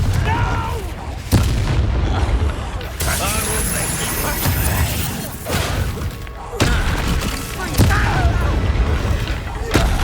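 Confringo fire-blast spells in the Hogwarts Legacy video game, loud repeated booming explosions with thuds and crackling debris during battle, dense and continuous, with a voice calling out over the combat.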